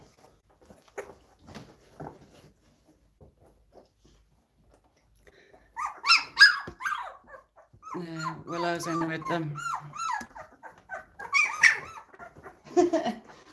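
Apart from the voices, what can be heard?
dog barking and growling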